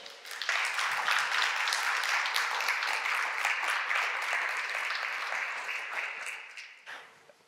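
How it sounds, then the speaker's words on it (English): An audience at a startup talk on negotiating with investors gives the speaker a full round of applause, dense, even clapping that swells quickly, holds for several seconds, then fades out. "please say a big round of applause for Lousin"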